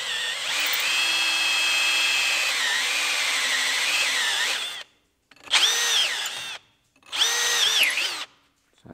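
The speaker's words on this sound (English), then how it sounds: "And basically just drill it down to the size you need." A power drill boring a pilot hole into a workpiece clamped in a vise: a long steady high whine, then two shorter bursts after a brief pause, loud and close with no talk.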